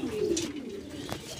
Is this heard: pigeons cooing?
yes